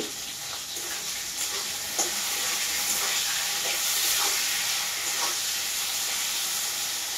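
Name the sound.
vegetables sizzling while frying in a pan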